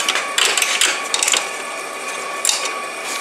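A ratchet wrench with a 10 millimeter socket loosens a car battery terminal, giving quick bursts of rapid clicking close by.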